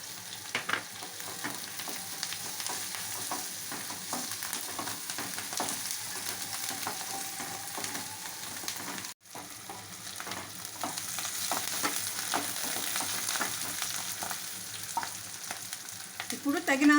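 Onions, green chilies, curry leaves and cumin fry in a hot pan with a steady, close sizzle, broken by stirring scrapes and clicks and a brief drop in sound near the middle.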